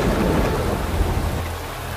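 Heavy rain pours down steadily with deep rolling thunder rumbling underneath, a dense continuous wash of sound with no voices.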